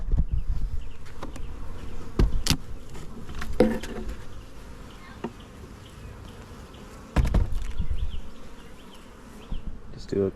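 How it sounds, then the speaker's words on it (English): Honey bees buzz inside a packed hive box during a swarm check, a dense close drone broken by knocks and handling bumps. "they look like they are packed with bees"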